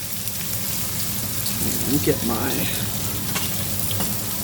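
Rinsed, drained rice hits hot oil in a pan and is stirred with a wooden spoon, giving a steady close sizzle and crackle with soft scraping, while a voice talks briefly over it.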